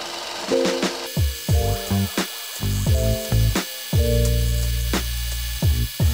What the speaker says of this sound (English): I'm going to sand gently all along the outside edge